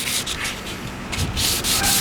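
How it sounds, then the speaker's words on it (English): Wet sandpaper rubs back and forth over an oxidized plastic headlight lens in short, rasping strokes, close and fairly loud, with brief pauses between passes and no talking. "And as I sand, you'll see that the water will start to turn like a yellow."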